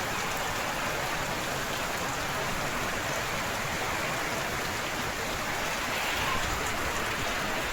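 Heavy rain pours steadily over a village field, a constant loud hiss of drops that stays even throughout with nothing else standing out.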